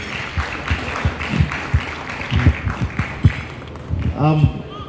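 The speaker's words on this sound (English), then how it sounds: "Let's have a round of applause, please." Conference audience gives a round of applause after a talk on natural disasters and participatory media, lighter scattered clapping mixed with a speaker's nearby voice talking over it.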